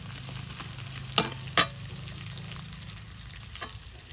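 Shrimp frying in a pan, a steady sizzle with a few sharp scraping clicks from stirring, close and moderately loud with no talk.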